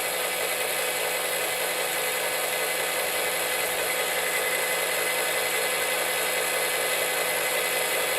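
A power drill whines steadily at full speed throughout, a loud, continuous high-pitched motor drone with no pauses, running alone and close.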